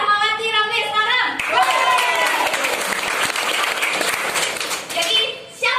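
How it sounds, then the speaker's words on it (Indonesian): An audience claps for a staff promotion at a company event, a dense burst of many hands applauding under a speaking voice, swelling and then tapering off near the end. "kasih aplaus untuk promotinya Rahmawati Ramli sekarang"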